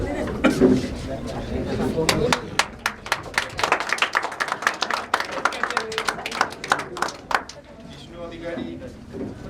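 A seminar audience claps for friends in a burst of dense applause that builds and then thins out toward the end, with some voices mixed in.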